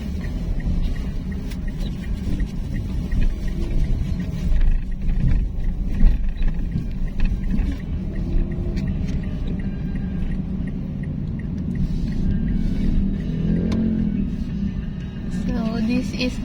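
Road traffic crawling past roadworks in front of SM City Tarlac, a continuous low engine rumble and passing vehicle noise with occasional louder surges, steady throughout.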